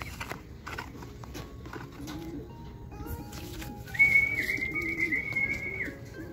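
Racing pigeons called down into a loft, soft cooing and bird calls over a low outdoor murmur, joined midway by a long, sustained whistle held for a couple of seconds.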